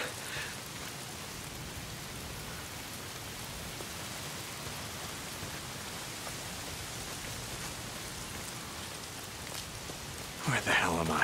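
Steady rain hisses down in the video game Days Gone, a continuous wash of noise, moderately loud and unbroken, with a brief clatter near the end.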